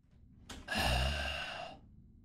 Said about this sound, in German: Boah, da atmet mich was an.